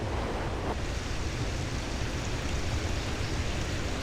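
Waterfalls in Yellowstone pour in a steady, dense rush of falling water, loud and continuous without a break, with no voices over it.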